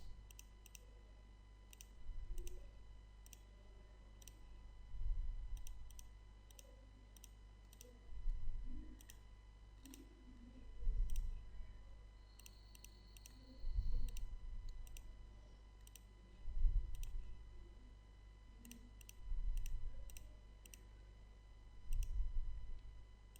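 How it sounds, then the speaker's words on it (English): Mouse clicks on slicer checkboxes in Excel, a steady series of sharp, close clicks repeating every few seconds, in pairs and singles, over faint low rumble. "keep clicking on all the different checkboxes here"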